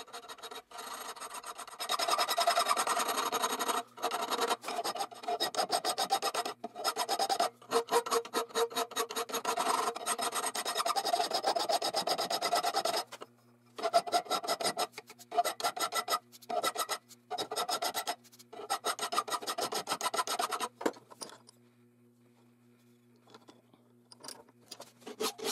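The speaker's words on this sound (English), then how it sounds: "I'm using the half-round file to even up that concave surface on the front of the handle." Half-round file rasping along the concave front of a wooden knife handle, steady rhythmic back-and-forth strokes close up with brief pauses, tapering off near the end.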